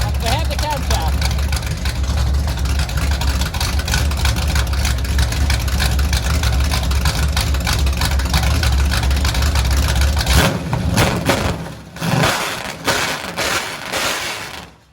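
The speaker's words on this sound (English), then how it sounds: "Even though we don't have any mufflers, not super loud at idle" A Chevelle V8 with a swapped camshaft and no mufflers idles with a steady, throbbing low rumble for about ten seconds, then the noise drops into clattering handling sounds and a brief burst; speech is present.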